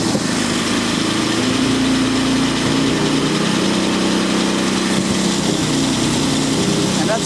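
A Jaguar XJ6 4.2 litre engine idles loud and close while being tuned with a Steadman TS 100, holding a steady, even, slightly fast rumble throughout.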